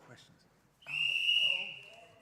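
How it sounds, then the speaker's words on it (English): A whistle blown once as a test before a timed speaking competition gives a loud, steady, shrill tone lasting about a second and a half, with quiet room noise before it. "That's the whistle."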